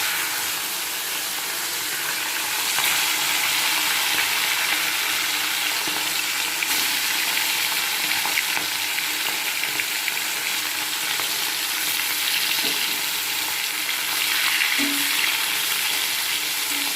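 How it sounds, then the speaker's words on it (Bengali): Chopped onion for gima greens with potato fries in hot oil, giving a loud, continuous sizzle and hiss with occasional soft stirring scrapes. "এটাকে আমি আলু এবং পেঁয়াজ দিয়ে ভাজবো।"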